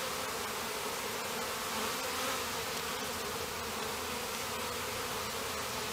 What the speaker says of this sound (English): I'm going to shake the bees in there